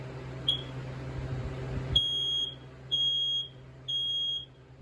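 A Family Guard FG200 smoke alarm sounds a piercing high beep, first a short chirp and then three long loud beeps at steady intervals over a low background hum.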